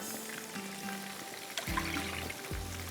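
A short pour of milk into a hot pan of frying chicken tikka boti, with a soft liquid splash and trickle under a continuous low sizzle, no talking.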